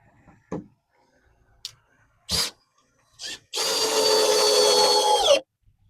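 Cordless power drill driving screws into a fence gate center bracket: a few knocks and short taps, then one sustained whirring drive of about two seconds up close.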